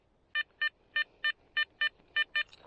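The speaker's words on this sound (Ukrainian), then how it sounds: "Перший сигнальчик на проволоку схоже" A Garrett Ace Apex metal detector sweeping the ground gives eight short, evenly spaced electronic beeps of the same pitch, clear and close, as it signals what seems to be a piece of wire.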